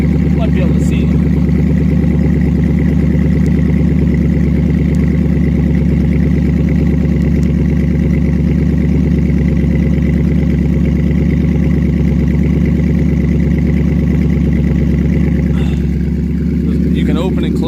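A 2009 Dodge Challenger SRT8 with a Corsa exhaust idles loud and close, a deep, steady, burbling rumble that holds throughout, with a person talking over it.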